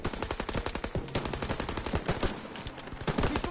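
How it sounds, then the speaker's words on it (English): Call of Duty WWII machine guns firing in dense rapid bursts, loud and close, with overlapping rattling shots continuing throughout. "MGs, open fire!"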